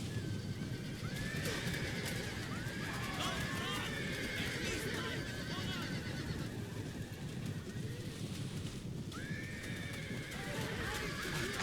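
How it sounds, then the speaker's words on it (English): Repeated horse whinnies and neighs ring out over a dense, roaring battle din with steady hoofbeats in a Total War: Rome 2 cavalry charge, with a voice talking underneath. "Alright, here come horses."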